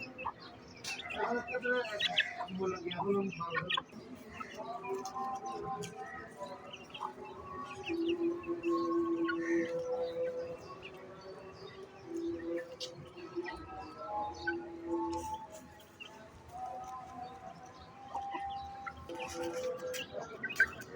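Young desi chickens, about two months old, cheep and chirp in a home yard, a busy overlapping chorus of short high calls with quiet background sounds and occasional murmured voices.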